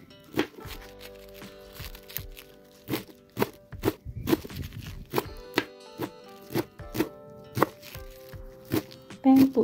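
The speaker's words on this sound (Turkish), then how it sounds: "Kök kısmını ayrı doğradım." Spinach roots are chopped with a knife on a cutting board, sharp irregular thunks repeating close and clear, with quiet background hum between strokes.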